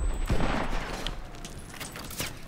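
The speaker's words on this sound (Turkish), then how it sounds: "Biri sana sıkıyor ama nereden sıkıyor?" Gunfire crackles through a battle in the shooter game Enlisted, with repeated broadband shots and bursts at moderate distance over a busy, steady backdrop, heaviest in the first second.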